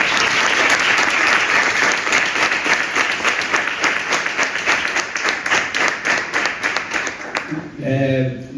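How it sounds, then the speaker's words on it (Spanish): Audience applause for Adrián on a Spanish talk show, a dense, steady burst of clapping that fades out near the end as a voice begins speaking. "pedir un fuerte aplauso para Adrián"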